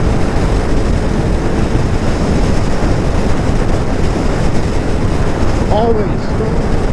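Heavy headwind roars across the microphone while riding a 2022 Can-Am Ryker 900 on Route 43, a loud, constant broadband rush that buries any engine sound.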